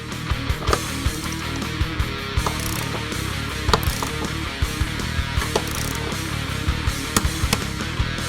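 Torque wrench clicking and ratcheting while tightening roll bar bolts on a 2005-2014 Mustang, with sharp metallic clicks at irregular intervals over a steady background hum.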